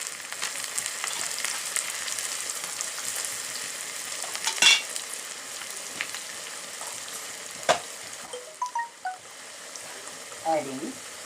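Onion and curry leaves fry with asafoetida and cumin in a pan, giving a steady close sizzle and crackle with occasional scrapes and clinks of stirring, fading toward the end.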